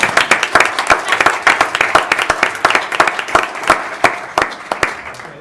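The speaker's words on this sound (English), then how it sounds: "Now we can clap." Sharp, distinct hand claps from a small group at a city council meeting in Ogden, uneven and fairly close, with some individual claps standing out, and a little talk under the clapping.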